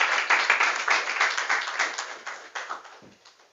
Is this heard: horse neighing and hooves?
no